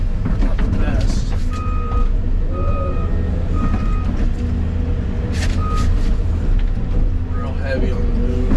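A brand-new Volvo 250 excavator runs steadily with a dense, loud engine drone, high repeating tonal beeps sounding at intervals over it, and someone talking throughout.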